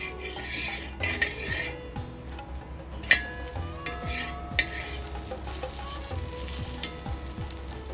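White sorghum paniyaram and dosa fry on a pan with a steady soft sizzle, punctuated by sharp metallic spatula scrapes and taps against the pan, close and alone without talk.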